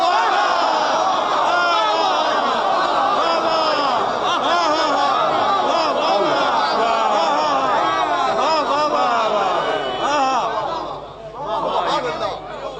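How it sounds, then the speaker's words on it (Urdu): A large crowd at a religious gathering chants slogans in a dense, loud, continuous roar of many voices that holds for about twelve seconds and dips briefly near the end. "دیکھو میں نے تمہیں نعرے معاف کیے"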